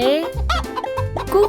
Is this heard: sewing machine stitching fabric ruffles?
no